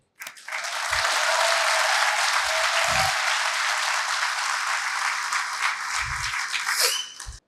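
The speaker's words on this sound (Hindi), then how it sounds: "ये पार्लियामेंट वाली तालियां बज रही है क्या?" Hall audience at a leadership talk claps together in a loud, sustained burst that starts abruptly and fades at the end, with occasional low thuds beneath the dense clatter.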